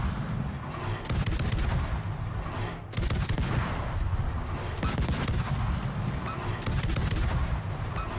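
Heavy cannon fire booms in a warship video game, several loud rolling salvos in succession over a constant rumbling background, with no talking.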